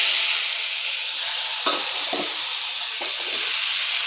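Onion greens hiss and sizzle steadily as they fry in a pan, with a few sharper bursts of crackle as the greens hit the hot oil, close and moderately loud with no talk.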